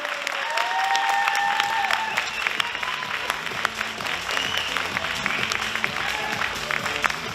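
Loud applause fills a hall at a bodybuilding competition, many hands clapping continuously with scattered cheers and whistles over the crowd.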